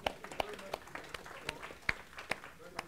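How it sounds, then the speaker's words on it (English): A small class applauds together in a room, with scattered claps sounding over a low murmur of voices for a few seconds. "For those online, we are applauding"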